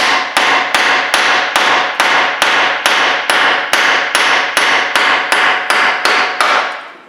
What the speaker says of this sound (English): we're going to have to persuade it with a hammer to get it to move